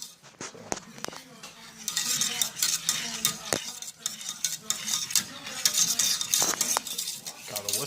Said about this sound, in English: you gotta whisk all the lumps out and stir it constantly